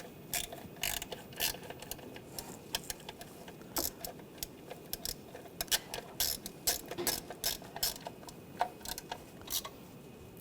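A ratchet wrench clicks in quick irregular bursts while bolts are snugged down on the water pump of a 2010-2014 Volkswagen GTI, close and fairly quiet, with no talking.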